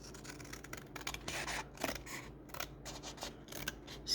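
Scissors trimming a journal card, a few quiet snips and paper rustles close up with no talking.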